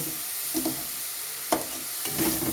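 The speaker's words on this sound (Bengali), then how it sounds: "এই মশলাটাকে একটু ভালো করে ভেজে নেব আর টমেটোটাকে" Spice masala and tomato fry in a pan for a vegetarian cabbage dish, a continuous hiss of sizzling oil punctuated by a few brief spatula stirs, fairly close and with no talking.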